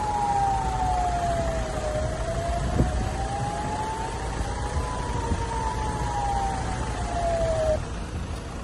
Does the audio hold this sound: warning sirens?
yes